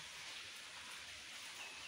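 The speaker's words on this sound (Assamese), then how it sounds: "এইটো সময়তে বৰষুণ দিলে" Afternoon rain falling outdoors in rural Assam, a faint, steady hiss of drops heard alone without any talk.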